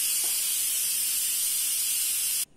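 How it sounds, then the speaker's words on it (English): A pressure cooker, used to cook samp, vents steam in a loud, steady hiss that runs unbroken for over two seconds, then cuts off abruptly. "Turn the anti-blockage vent to venting."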